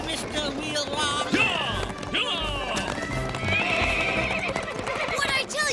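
Cartoon racehorse gallops with quick clip-clop hoofbeats and shrill whinnies and neighs during a race, loud and close, with excited background sound throughout.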